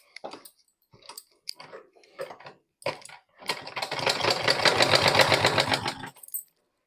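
A sewing machine stitches piping onto a pillow cover sewn from waste cloth: a few short bursts of needle clatter, then a fast, steady rhythmic run of stitching for about two and a half seconds before stopping, close and clear.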